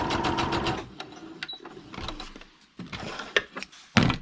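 A sewing machine stitches through folded paper, its fast mechanical whirr running steadily at first, then breaking into shorter bursts and clicks of the mechanism.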